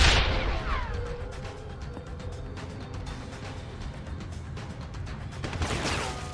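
A grenade explosion in Deus Ex: Human Revolution. A loud opening burst rolls off into a long rumbling tail, and a second swell of rumble arrives near the end.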